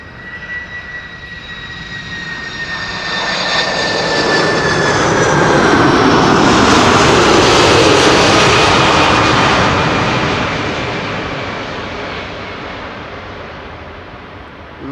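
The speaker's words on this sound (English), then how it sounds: "That is a 747 freighter, 10 hours precisely underway." A Suparna Airlines Boeing 747 freighter, 33 years old, landing at Schiphol builds into a loud jet roar with whining engine tones, peaks midway and slowly fades, with no talk.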